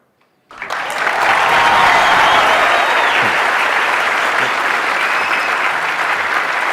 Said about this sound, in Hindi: मेरा दिल रखने के लिए तालियां बजा रहे हो?